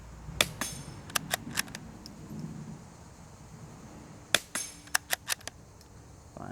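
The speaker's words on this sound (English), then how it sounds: "but we're just going to shoot at this guy" Rifle shots fired at a target through a thermal scope, a few sharp cracks early on and a quicker cluster of four or five toward the end, each one loud and snappy against a quiet outdoor background.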